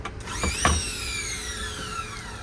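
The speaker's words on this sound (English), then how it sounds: "This belt controls the drill or the cutting wheel. So when you turn it on," A Keyline 303 key cutting machine powering up, its belt-driven motor and cutting wheel starting with a faint whir that holds steady. No one speaks.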